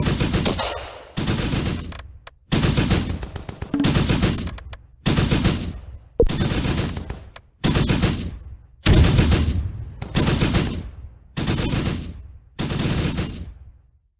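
Video game gunfire in Close Combat comes in about ten loud machine-gun bursts, each a rapid rattle lasting roughly a second with short silent gaps between.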